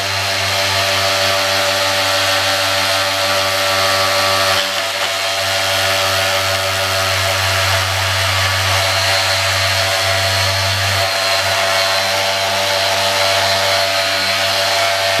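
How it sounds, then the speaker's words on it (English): A power tool roughens the back of a carbon fibre BMW H2 Sport part before repair, giving a loud, steady buzzing whine that runs unbroken and alone throughout. "Now the next step is to roughen up the back of this."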